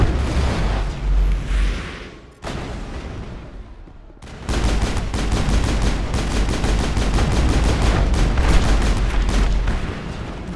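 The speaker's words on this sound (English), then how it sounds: "Way too much gunfire." Heavy, sustained bursts of gunfire in Mass Effect 1, with rapid automatic fire and booming blasts, a brief lull, then a dense, loud barrage.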